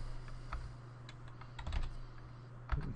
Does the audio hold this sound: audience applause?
no